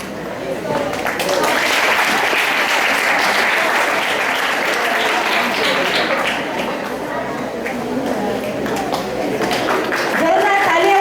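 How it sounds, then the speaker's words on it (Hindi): A school audience at a Hindi Bhasha Diwas celebration claps loudly and steadily, a dense, sustained wash of applause with faint voices mixed in near the end. "जोरदार तालियां होनी चाहिए।"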